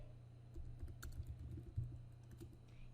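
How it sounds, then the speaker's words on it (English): Quiet, close computer keyboard typing as a file name is entered, a quick irregular burst of soft key clicks over a low background hum. "type a name for it"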